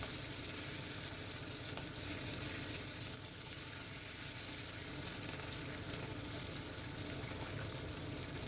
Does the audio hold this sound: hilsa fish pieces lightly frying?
yes